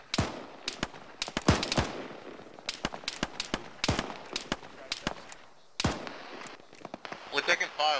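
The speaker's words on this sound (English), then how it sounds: "We're taking fire from the fucking northwest" Gunfire cracks out in a rapid series of sharp, close bursts and scattered single shots during a combat firefight, irregular in rhythm with brief pauses, the volleys coming from the northwest.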